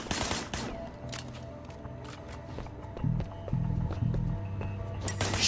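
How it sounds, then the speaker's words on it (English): Gunshots in the video game Sleeping Dogs, scattered sharp cracks at the start and end with a few lighter clicks and a low hum between, moderately loud. "Shooting at the guys over there."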